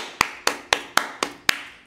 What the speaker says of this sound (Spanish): Mire, señores, hay que aplaudir